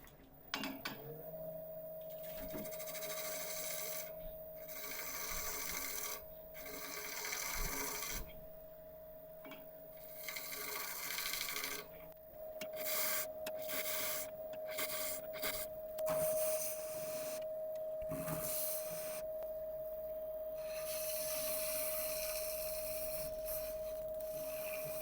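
A resin turning blank spinning on a wood lathe is flattened off with a cutting tool, giving a steady close mechanical whir with a sustained hum and intermittent rasping, scraping cuts that stop and start over the run.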